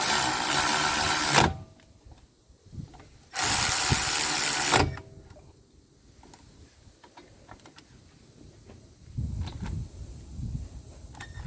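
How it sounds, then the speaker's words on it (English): Ratchet tightening a brake caliper bolt on a 2020 Mitsubishi Eclipse Cross 1.5 Turbo, two loud bursts of rapid clicking followed by quieter scattered ticks and clinks close by. "Tighten the bolt."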